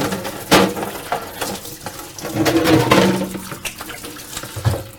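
Water runs from a tap into a paint sink during cleanup after painting, a loud steady splashing flow with a few clattering knocks of items in the basin.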